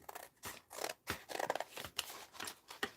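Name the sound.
cutting paper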